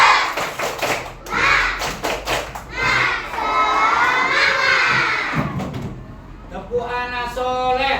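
Classroom of children during a lesson on the pillars of Hajj, clapping and chanting the Indonesian group cheer "Tepuk semangat" together, loud and rhythmic with shouting voices and a brief pause before a final chorus.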